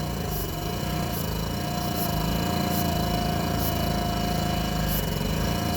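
Nissan forklift engine running steadily after starting, a continuous loud mechanical drone with rattling texture throughout, no voices over it.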